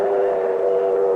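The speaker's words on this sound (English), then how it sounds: "The train's pulling in." Train pulling into a station, a sustained whistle-like tone holding steady and fairly loud for the whole brief moment, with no voices.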